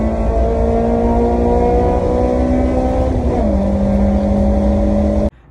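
Acura RSX DC5 engine revving hard into VTEC, a loud sustained high-rpm wail with a pitch shift partway through as it pulls, then cutting off abruptly.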